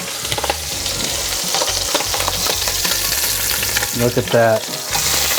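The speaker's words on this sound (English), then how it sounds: "we're gonna sear this off really fast" Rolled beef braciole sears in a hot pot with a loud, dense, continuous sizzle, and a voice speaks briefly over the crackle.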